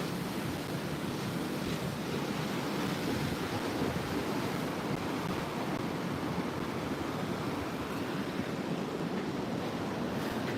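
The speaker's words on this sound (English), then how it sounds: "A few fun waves coming through." Ocean surf rolls steadily along a coast where surfers ride waves, a dense continuous wash of breaking water with wind rumble and no voices.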